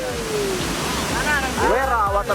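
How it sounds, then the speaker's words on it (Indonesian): Rushing water from the Wera waterfall in Sigi, a steady broadband roar that runs through the whole stretch under people talking and calling out nearby. "Wera Waterfall."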